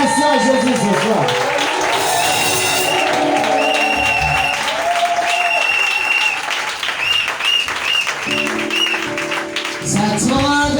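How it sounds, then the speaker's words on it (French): Loud, sustained congregation applause at a church service, dense clapping mixed with cheering voices and music, dipping briefly before swelling again. "Une pluie d'acclamation à Jésus ce soir."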